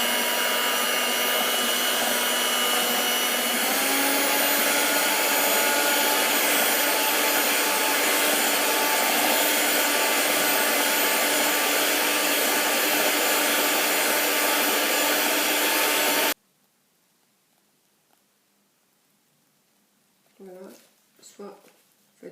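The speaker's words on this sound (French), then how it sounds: "Maintenant, je vais la monter au batteur." Electric mixer whipping a chilled frosting for raspberry cupcakes with white chocolate glaze, a loud steady whirring drone lasting about sixteen seconds, then cutting off to quiet with a voice speaking briefly.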